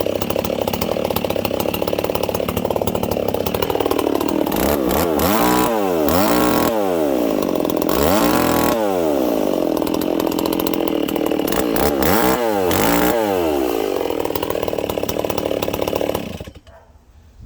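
A re-assembled old Stihl 015L chainsaw runs close by, its two-stroke engine droning loud and continuously with several revving swells before it shuts off at the end.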